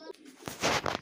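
Pet pigeons in a fancier's loft give a brief soft cooing call up close, a short burst of throaty sound with no talk.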